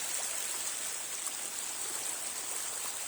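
Floodwater rushing through a backyard flower garden after severe flooding, a continuous, hissing stream of moving water with faint trickling detail, steady and fairly soft throughout with no voices.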